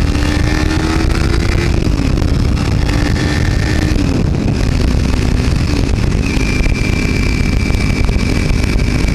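Kawasaki Ninja 300 motorcycle at highway speed, around 80, with a steady loud engine drone and shifting whine over constant wind roar, no talking.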